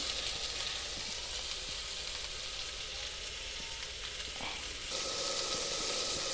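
Spice masala of chili and cumin powder with tomato sautéing in a pan, a steady close sizzle and hiss throughout with faint stirring scrapes, growing brighter and louder toward the end, no voices.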